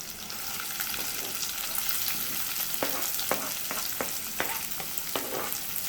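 Onion sautés in oil under a constant hissing sizzle, with a run of sharp spoon scrapes and taps against the pan in the second half.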